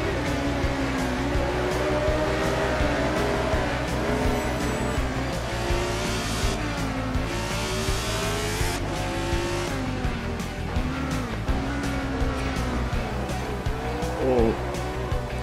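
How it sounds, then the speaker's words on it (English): A 1975 Formula 1 race car in Assetto Corsa at Germany's track, its engine wailing and shifting continuously while tires squeal briefly in a drift, with someone talking over the racing throughout. "Nice drift."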